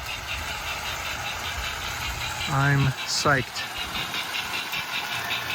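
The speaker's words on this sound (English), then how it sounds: "This is going to be my go-to engine. Runs very smoothly, especially considering it's 50 years old." A 50-year-old engine idles with a steady, even drone throughout, while someone speaks briefly over it partway through.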